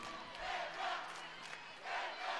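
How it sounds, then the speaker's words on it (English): A large arena crowd at a BYU–Utah gymnastics meet in the Marriott Center breaks into a loud ovation for a gymnast, with sustained cheering and shouts that swell in waves. "Loud ovation for Macy Roberts from an appreciative crowd at the Marriott Center."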